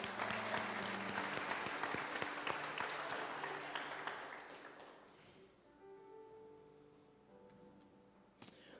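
Church congregation applauding during a sermon, a loud, full burst of clapping that gradually thins and fades out over about five seconds, leaving quiet room tone with faint voices.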